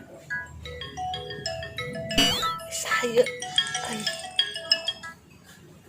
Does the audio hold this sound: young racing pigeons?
no